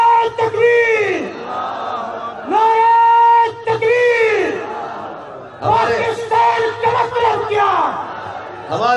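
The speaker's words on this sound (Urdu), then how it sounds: "عباسی صاحب بڑے پرجوش انداز میں آپ سے نعرہ لگوا رہے ہیں" A large crowd at a political convention in Islamabad chants slogans in loud, unison call-and-response bursts, rising and pausing in waves over nine seconds, with a leader's shouted lines between the crowd's roars.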